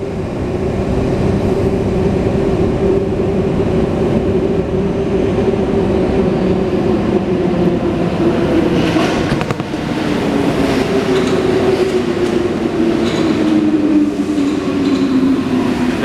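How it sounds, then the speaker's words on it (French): An MP05 metro train on line 14 arrives at Saint-Lazare station, running empty on a test run: a loud, steady rumbling roar with rising whine and rail noise that continues throughout, with no talking. "il y a une rame qui va arriver tout au bout, un MP05"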